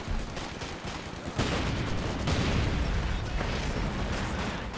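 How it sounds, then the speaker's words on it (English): Mortar shell impacts and gunfire in a Company of Heroes 2 battle, a dense, continuous roar of battle with a heavy blast near 1.4 seconds and sustained rumbling fire afterward. "Oh, that was a big mortar shell there."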